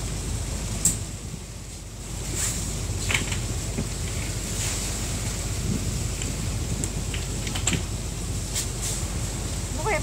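Rough sea surges around a boat on an island crossing, a continuous broad wash of water noise punctuated by sharp splashes and knocks against the hull.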